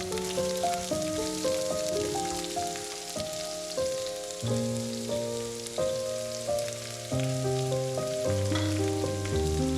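Onion and green chili hit a pan of spluttering mustard seeds and fry with a steady, close sizzle. Melodic background music plays throughout.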